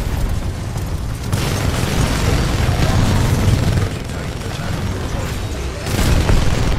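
A nuke exploding in a video game gives a loud, sustained roaring rumble that swells and eases, with a fresh surge near the end.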